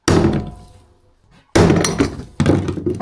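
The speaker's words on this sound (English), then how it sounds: "I probably just bang it off, bang it off with a hammer or something" A few loud, sharp metallic bangs, close up, separated by a short pause, from a hammer striking battery terminals.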